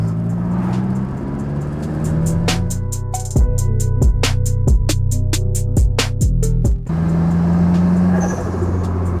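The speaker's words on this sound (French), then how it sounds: "Donc là ce qu'on entend c'est le turbo, plus précisément la dump valve." A Nissan S14 with a Rocket Bunny kit idles with a steady rumble, then a rapid series of sharp, rhythmic bursts and chatters sounds for several seconds up close, consistent with a turbo dump valve venting, before the idle resumes.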